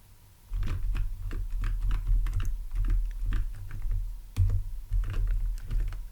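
Steady typing on a computer keyboard in a quiet office, close and continuous rapid keystrokes clattering for several seconds with no talking.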